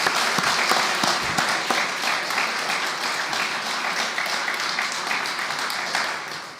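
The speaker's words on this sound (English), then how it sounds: "So I think they deserve another round of applause." Warm audience applause for gold medal recipients at a Royal Irish Academy ceremony, a full, continuous round of clapping that holds steady for several seconds before tapering at the end.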